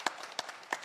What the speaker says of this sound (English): Give him a round of applause, too, folks.